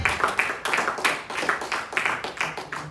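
Applause from a church congregation during a sermon, a dense patter of many hands with rhythmic surges roughly every half second, moderately loud and steady with no talk over it.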